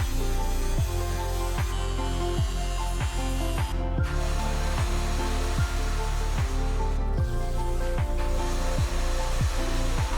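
A die grinder works the edge and corner of a hole cut in a metal sheet tabletop, giving a steady, loud high-pitched whine with a regular pulsing rhythm of short bursts throughout, alone with no talk.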